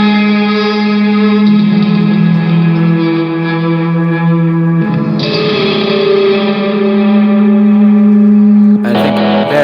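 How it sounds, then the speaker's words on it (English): Improvised electric guitar played through effects pedals rings out loud and sustained, its echoing, distorted tones swelling into haunting drones that shift pitch partway through before a burst of noisy texture at the end. "I improvised some guitar over it just to add a bit more stuff"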